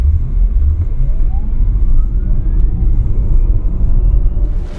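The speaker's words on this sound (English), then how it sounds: "I'll just give it a little bit of gas here and see if you can hear that engine." Lucid Air Dream Edition electric car accelerating gently in comfort mode, a steady loud low rumble of road and motor noise with a faint rising whine climbing in pitch.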